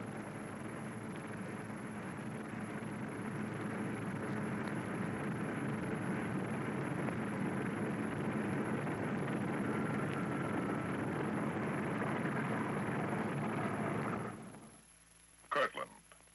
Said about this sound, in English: Bomber ready, it moves off to wait its takeoff time